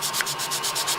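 Sandpaper wrapped on a profile block rubs in quick, rhythmic back-and-forth strokes, a close, loud hissing scrape with no other sound.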